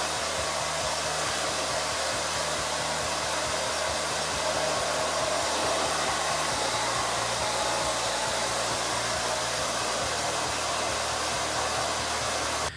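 A hair dryer runs steadily and loudly throughout, blowing on hair coated with volumizing product, with a constant whooshing airflow and a slight shift in tone partway through as the dryer moves.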